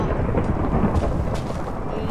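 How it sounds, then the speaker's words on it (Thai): Rain and thunder in the video game Minecraft: a loud, dense rumble with steady rain noise, swelling in places, and faint voice sounds mixed underneath. "ฝนตกเลยแหละ"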